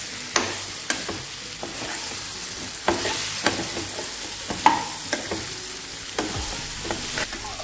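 A spoon stirs and scrapes a sizzling raw-mango vegetable curry in a pan, with irregular knocks and scrapes against the metal over a constant low frying hiss, close by.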